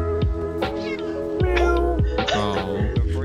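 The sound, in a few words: cat meowing when killed in Minecraft video game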